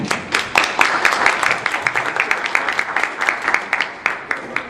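A small Inkwell Awards audience claps for the introduction of an ink artist, the individual claps distinct and uneven, moderately close, continuing steadily for several seconds.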